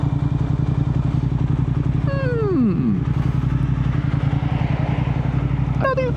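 A motorcycle engine drones steadily while the bike cruises in fifth gear, a close, continuous rumble with a brief sliding tone partway through.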